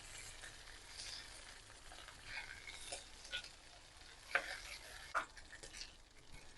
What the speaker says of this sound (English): use a lowest fire, fry until you can smell the cuttlefish fragrance